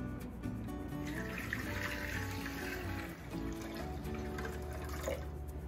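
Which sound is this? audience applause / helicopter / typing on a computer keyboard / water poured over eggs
water poured over eggs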